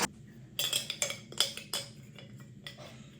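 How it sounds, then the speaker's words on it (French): A metal spoon scoops honey for homemade bread dough, giving several sharp, close clinks against a bowl in an irregular rhythm, with quiet pauses between them and no talking. "je vais prendre une cuillère pour le miel"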